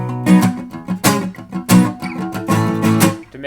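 Acoustic guitar strummed through the chord pattern of a song, with percussive muted strokes woven between bright, ringing strums in a lively rhythm, played close and alone.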